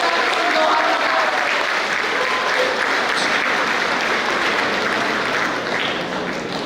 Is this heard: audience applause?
yes